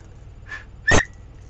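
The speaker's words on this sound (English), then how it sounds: "it's a whistle with a lanyard" A small whistle on a lanyard gives a faint short toot followed by a louder, sharper blast lasting about a tenth of a second, then quiet.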